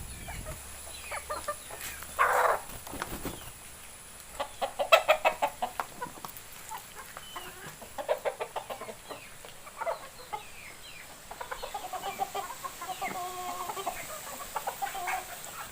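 Laying hens and native hens cluck and chatter intermittently at close range, with scattered short calls over a quiet background.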